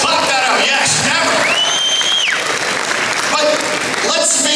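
A loud crowd at a charity gala ball claps and cheers, with whoops and shouts rising over dense, continuous applause.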